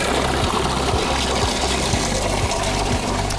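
Mineral spring water runs and trickles on the island of São Miguel in the Azores, a continuous close splashing flow with no voices.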